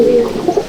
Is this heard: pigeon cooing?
yes